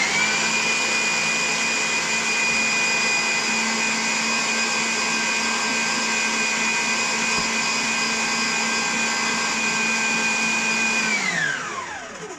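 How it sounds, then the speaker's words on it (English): Electric mixer whirring steadily as it beats cake batter of butter, sugar and eggs, a loud continuous motor drone held for about eleven seconds before it winds down and stops. "What are you doing in the mixer? I didn't hear earlier. Butter, sugar and eggs."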